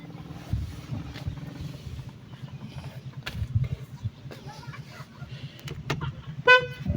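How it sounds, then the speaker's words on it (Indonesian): Car horn on a Wuling Air EV Lite, a trumpet-like toot: one short, bright honk near the end, close by, after a stretch of quiet car interior and handling noises. "Ini bunyi klaksonnya seperti trompet."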